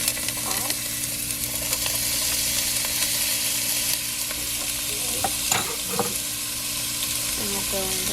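Vegetables sauteing in a chili pot, a steady frying sizzle throughout with occasional scraping stirs of a utensil against the pot, close and continuous with no talk.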